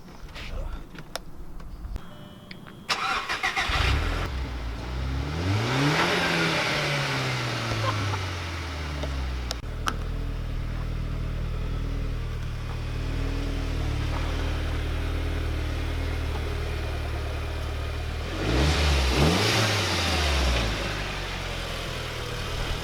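A car engine cranks and starts, nearly stalling, then revs up and down several times before settling into a steady idle, with a second rev near the end.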